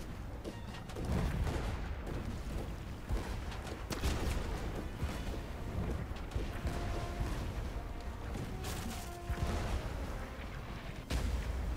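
Repeated booming cannon blasts and crashing impacts pile up in a dense, continuous barrage in the pirate ship game Blazing Sails, with heavy low thuds rolling under the noise.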